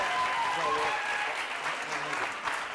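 Audience applause at a performance night, a full, continuous burst of clapping from the crowd that stays loud and steady from start to finish.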